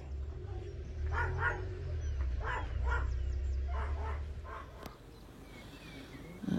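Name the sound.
unhappy dog barking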